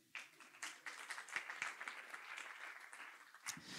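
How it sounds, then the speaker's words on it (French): Audience applause after a presentation on agile team confidence at a French conference: a scattered burst of claps starting abruptly, moderately loud and slightly distant, continuing unevenly to the end. "on peut l'applaudir"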